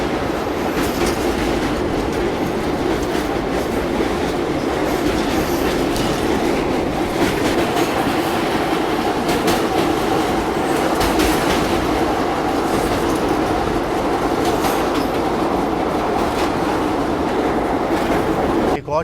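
Aboard the Katni Bhusaval Express as it runs toward the Tapti river crossing, a loud, steady rumble of rolling wagons carries on throughout, with rhythmic wheel clatter on the rails and no break in the noise.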